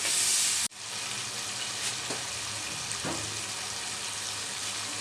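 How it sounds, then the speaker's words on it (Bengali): Ground cumin and coriander fry with a splash of water in a pan for an egg and potato curry, giving a steady, even hiss of sizzling steam, close and continuous, with a sharp cut near the start and a couple of faint stirring taps. "অল্প পানি দিয়ে এই উপকরণগুলো আমি একটু কষিয়ে নিব।"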